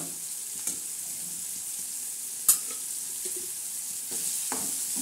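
Okra with tomato and onion frying in a pan, a constant close sizzle broken by spatula scrapes and a sharp clack midway, with no one talking.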